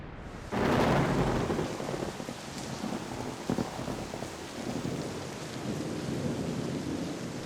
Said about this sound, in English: It all starts with rain.